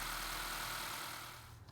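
An Acura TLX 2.4 engine idles steadily after an oil change, a low even hum with light mechanical clatter that eases slightly toward the end.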